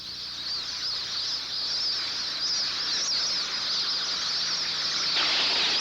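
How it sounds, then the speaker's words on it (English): A dense flock of whistling ducks in Australian wetland grazing grounds, many high thin whistling calls overlapping with a steady rush of wings, continuous and fairly loud with no pauses. "The sound of the whistling duck is made by voices and wings together"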